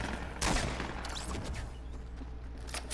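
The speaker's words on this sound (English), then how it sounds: "I heard gunshots." Gunfire crackles in a round of the video game Fortnite, with a sharp burst followed by continuing shots heard at some distance through a dense, noisy game mix.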